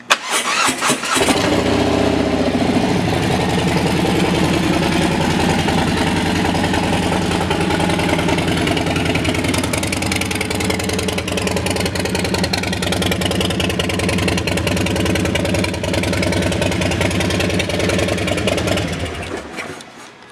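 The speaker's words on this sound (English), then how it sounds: "let's listen to the exhaust." A 2018 Harley-Davidson Softail Low Rider engine rumbles steadily at idle for about twenty seconds, a deep, loud, throaty exhaust note that holds constant before cutting off at the end.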